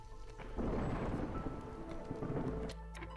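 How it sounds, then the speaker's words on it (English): In the strategy game Against the Iron Storm, an approaching storm brings a deep rumbling thunder roll over steady rain, swelling and then easing off, with no voices. "And the storm is almost upon us."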